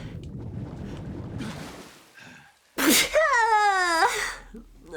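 A single sharp sneeze bursts out loud and close after soft breathy background noise, then a long whiny, wavering vocal tone follows.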